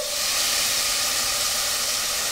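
Pork hits a pan of sautéed tomato and onion for pork monggo, giving a steady broad hiss and sizzle that holds evenly throughout, close and with no voices.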